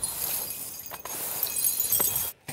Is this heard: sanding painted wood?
no